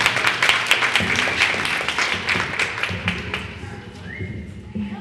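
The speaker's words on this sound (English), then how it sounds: "Let's give them another round of applause." Audience applause for young pre-K performers at a school event, brisk clapping that starts strong and gradually thins out, with a voice and some room noise coming in near the end.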